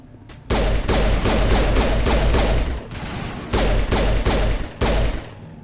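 Bursts of rapid gunfire from the video game Mass Effect Legendary Edition, loud close volleys of quick repeated shots broken by short pauses, with a lower rumble between bursts.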